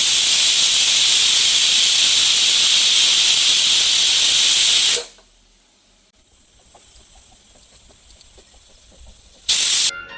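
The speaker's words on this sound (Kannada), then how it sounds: "ಲಿಡ್ ಕ್ಲೋಸ್ ಮಾಡಿದರೆ 2 ವಿಸಿಲ್ ಹಾಕ್ಸೋಣ ಅಷ್ಟೇ" A pressure cooker holding food lets out a loud, steady hissing jet of steam for about five seconds, cuts to near quiet, then hisses briefly again at the end.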